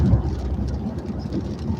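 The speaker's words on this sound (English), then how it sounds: "it's raining too hard" Steady heavy rain, a dense low rushing patter with a rumbling undertone.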